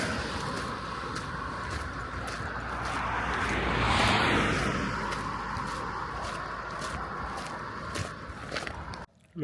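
Cars speed along a motorway beside a walking path on the Camino de Santiago in Spain. One vehicle swells to a broad whoosh midway and fades, with steady footsteps crunching throughout.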